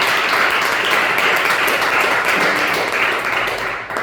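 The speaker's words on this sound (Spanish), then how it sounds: "Denle un aplauso al Señor por esto" A church congregation applauds, a loud, continuous wash of many hands clapping together, steady and close-sounding throughout, with no voices standing out.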